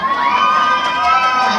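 Wedding guests cheering and whooping at a reception as the maid of honor begins her speech, a dense, loud crowd roar with shouts that holds steady throughout.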